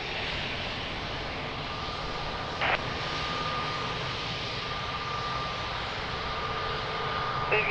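A jet airliner approaching runway 02 at Lisbon Airport, a steady broad engine roar heard from a distance with a faint whine running through it.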